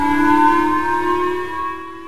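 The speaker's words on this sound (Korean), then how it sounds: "평온한 시골 마을에 사이렌 소리가 울려 퍼집니다." A civil defense siren wails steadily and loudly over a quiet rural village, warning of a North Korean ballistic missile launch, with a sustained tone and rich harmonics, slightly wavering, with no voices.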